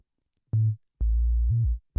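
Deep synth bass notes gliding smoothly into one another, a short note followed by a longer sustained one that slides up and back down, no voices.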